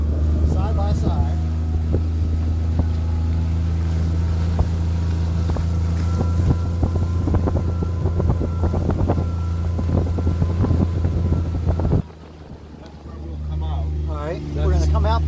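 Kawasaki side-by-side utility vehicle driving over rough ground, a steady loud engine drone with wind buffeting the microphone, people talking over it, then the engine note drops lower near the end.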